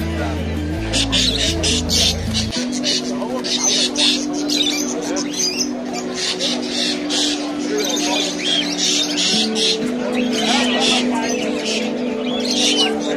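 Ornamental birds and pigeons at a crowded Alexandria bird market give off steady chirps and squawks throughout, mixed with a low droning hum, with people talking nearby.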